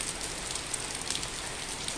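Heavy rain pours steadily over a home garden with orange and mango trees and blooming jasmine, a dense continuous hiss dotted with sharper drops striking leaves and surfaces, with no voices.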